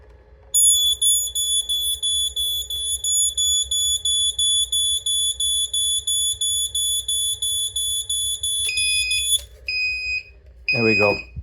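A homemade 3D printer watchdog alarm goes off close by, sounding piercing, rapid, regular beeps for several seconds. Its tone then drops into a few longer beeps and stops abruptly, with brief handling noise at the end.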